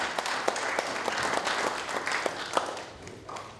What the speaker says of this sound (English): Give up a round of applause for the current candidates for the Petaluma City Council.